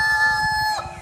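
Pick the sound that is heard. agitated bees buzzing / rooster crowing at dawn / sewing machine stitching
rooster crowing at dawn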